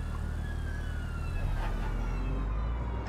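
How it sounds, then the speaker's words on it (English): A police siren in a video game wails in the distance over a steady low engine rumble, rising and falling faintly in the background. "I hear sirens."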